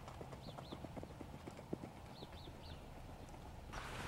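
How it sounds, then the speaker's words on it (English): A Peruvian horse under a rider walks with quick, even clip-clopping hoofbeats, fairly faint and steady throughout, with a few high bird chirps in the background. "Roberto, please stop your horse"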